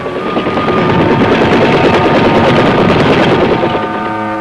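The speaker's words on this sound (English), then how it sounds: "Army aviators get in with their dust-off helicopters" Loud, close military medevac helicopters in the Vietnam War, rotors thumping continuously with a steady roaring engine whine, the chopping rhythm filling the whole stretch without any talk.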